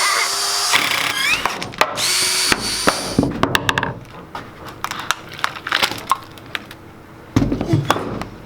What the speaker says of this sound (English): Your drill's way faster than mine.